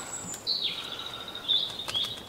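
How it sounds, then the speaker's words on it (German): Birdsong at dawn in a frosty forest after a freezing night: high, thin whistled notes and chirps, a sustained tone with brief bright trills, fairly faint and without talk. "Hört ihr die Vögel?"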